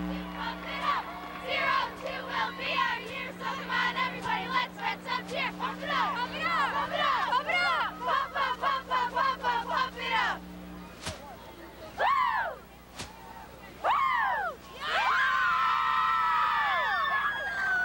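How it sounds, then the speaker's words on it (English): High school cheerleaders chant in rhythmic unison in a stadium at a Class 3A state football championship game, with loud, sharp, repeated shouted calls and bursts of crowd cheering over a steady hum. "Go ahead and cheer away."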